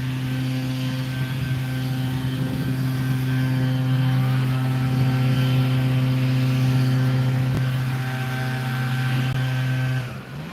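Outdoor leaf blowers blast leaves nearby, a loud steady droning engine whine with a constant pitched hum that holds for about ten seconds before easing off at the end.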